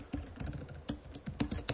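Keys on a computer keyboard clack in short, irregular bursts, a handful of crisp strikes close by and fairly quiet, with no voice over them.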